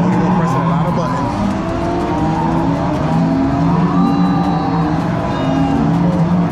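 An arcade racing video game at Round 1 Arcade plays engine drones and tire squeals that rise and fall, with a busy arcade din and people talking over it.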